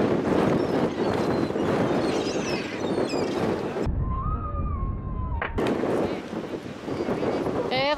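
Strong wind buffeting the microphone on the coast at Land's End, England, with heavy roaring gusts that cut out briefly midway before returning, faint bird-like calls over the rumble.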